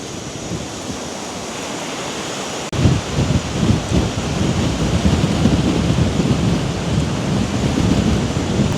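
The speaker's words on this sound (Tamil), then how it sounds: "ஆனால் காற்று தான் கொஞ்சம் கடுமையாக அடிக்குது." Strong wind buffets a microphone beside a village lake, a steady, loud rumbling roar that surges in gusts after a quieter opening moment.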